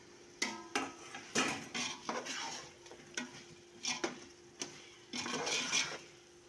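Chicken tikka biryani with fried chicken is mixed in a pot, giving a string of irregular spoon scrapes and metallic clinks against the pot over a faint sizzle, close up and with no talk.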